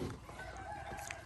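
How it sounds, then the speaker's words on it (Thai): Chicken clucking at a village bamboo bridge-building site, short and faint, heard alone against low background noise. "ไก่"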